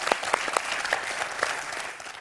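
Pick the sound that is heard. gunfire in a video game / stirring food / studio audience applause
studio audience applause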